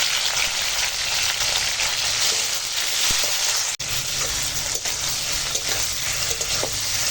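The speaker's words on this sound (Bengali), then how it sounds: "আলু টমেটো একসঙ্গে ভেজে নেব" Potatoes and tomatoes fry together in a pan with a loud, continuous, close sizzle, broken by a few faint clinks as they are stirred.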